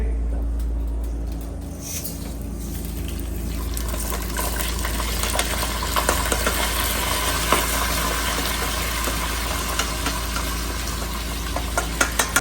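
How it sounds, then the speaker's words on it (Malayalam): Rice roasting in a hot pan with cumin and pepper gives a continuous close sizzle and scraping stir, with occasional louder clicks of a utensil against the pan. "അപ്പൊ നമ്മൾ അരി ഒന്ന് ചെറുതായിട്ട് നമ്മൾ ചൂടാക്കി എടുക്കുന്നുണ്ട്"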